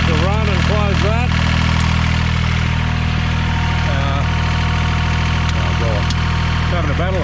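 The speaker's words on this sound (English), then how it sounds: "We'll turn the hydraulics on. Will be helpful. Get the motor load up." A tractor motor runs under load with its hydraulics engaged: a loud, steady, low droning hum with a constant mechanical undertone, while people talk intermittently over it.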